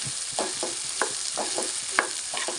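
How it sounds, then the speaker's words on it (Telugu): Cluster beans fry in a pan on a low flame: a soft, steady sizzle with rhythmic scrapes and stirs of a spoon and a couple of light metallic taps, close up. "మంట తక్కువ పెట్టుకొని మంచిగా సిమ్లో వేసుకొని దూరగా వేయించుకోవాలి"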